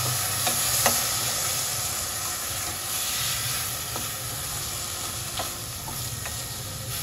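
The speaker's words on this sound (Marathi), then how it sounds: "एवढं 2 मिनिटं आपण छान परतून घेऊया." Moong dal khichdi sautéing in a pan, a continuous close sizzle and hiss with soft stirring scrapes and occasional light clinks, steady throughout with no speech.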